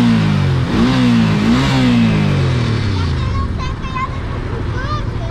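A Honda motorcycle engine revs hard up close, pitch climbing and dropping in repeated throttle blips before settling into a rough, loud idle, with voices talking over it.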